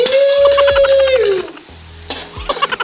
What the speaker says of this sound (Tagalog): Igigisa na po natin ang sibuyas.